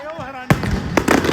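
Fireworks bursting at a Canada Day horse-racing event, a sharp boom followed by crackling pops and further bursts, heard loud and near while someone talks over them.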